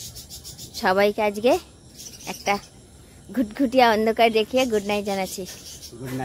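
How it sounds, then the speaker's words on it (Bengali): Crickets chirp at night in a faint, steady, high-pitched chorus that runs beneath a person speaking throughout. "ঝিঝি পোকার ডাক শুনছো?"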